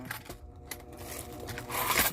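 Coins drop and jingle in a short run of metallic clinks and scrapes, with a louder clattering burst toward the end and no talking during it.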